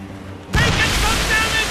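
Cannon fire in a naval battle in Assassin's Creed Rogue, a sudden loud broadband boom that rolls on with a sustained roar like surf and spray, with a voice heard underneath.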